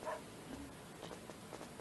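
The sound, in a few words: dog barking in the video game Chulip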